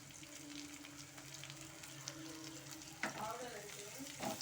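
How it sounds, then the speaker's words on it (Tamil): Sliced onion sautéing in a pan for egg fried rice, a steady close sizzle with a couple of louder stirring scrapes near the end, and no talking. "இப்போது நல்லா வதக்கிக்கலாம்."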